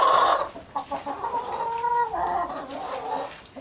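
Chickens cluck inside a backyard chicken coop, a close run of busy, overlapping clucks and short squawks that rise and fall with no one speaking.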